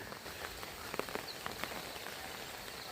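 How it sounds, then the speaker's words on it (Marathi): Heavy, steady rain falls on flooded paddy fields, a continuous soft hiss with scattered sharper drops, faint and distant, no voices. "पाऊस सतत धार चालू आहे"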